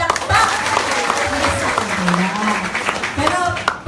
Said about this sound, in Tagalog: 4 milyong palakpak!